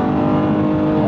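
A rebuilt BMW M2 Competition engine revs hard and holds a steady high pitch without shifting gear, loud and close from inside the car, with no talking.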